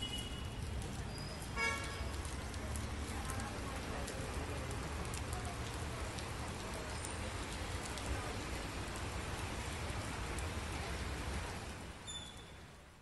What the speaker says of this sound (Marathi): पिंपरी चिंचवडमध्ये सकाळपासून पावसाची संततधार सुरू आहे